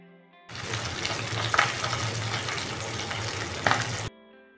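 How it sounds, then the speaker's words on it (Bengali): Pabda fish frying in hot oil: a steady, close, dense sizzle and crackle running for several seconds, with a couple of brief louder spits, starting and stopping abruptly. "এইভাবে একটা পিঠ ভাজা হয়ে গেলে পাল্টে আমি অপর পিঠটাকেও"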